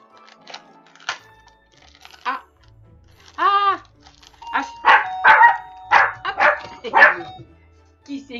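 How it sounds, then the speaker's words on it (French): Dog barking after a doorbell at home: a doorbell chime rings once, then a burst of several sharp close barks, with a person talking before and between them. "Qui c'est qui a aboyé tout à l'heure avant que j'arrête la vidéo"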